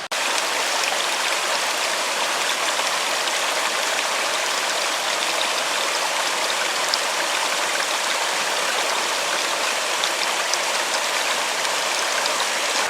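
A woodland stream rushes steadily below a bushcraft trail while a light drizzle falls, making a continuous, even, full-bodied wash of water noise that never lets up, with no voices.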